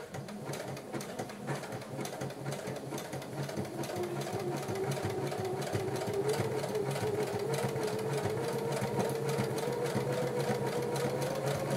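A home sewing machine runs continuously during a craft session, a steady, fairly quiet mechanical whir with a rapid stitching rhythm that holds even throughout.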